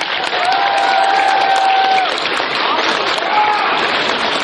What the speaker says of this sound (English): big round of applause for the art contest winners